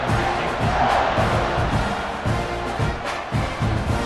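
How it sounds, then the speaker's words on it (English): A stadium crowd in the College Football 26 video game roars and chants in a steady, dense wall of cheering, with rhythmic pulses of collective shouting and no clear single voices. "this crowd now ready to get behind them"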